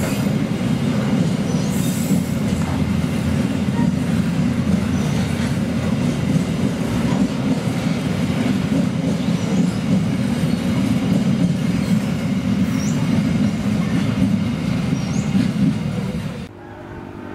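Freight train KA 2520 hauling container flat wagons rolls past close by with a continuous heavy rumble, rhythmic wheel clatter and occasional squeals, fading slightly at the end.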